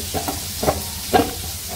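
Fish sizzles softly as it fries in a pan while a utensil stirs and scrapes in a few brief strokes, close by.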